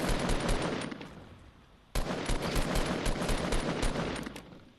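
A SCAR assault rifle firing in the Fortnite video game: rapid loud bursts of automatic gunfire, a short lull, then another long run of sustained shots.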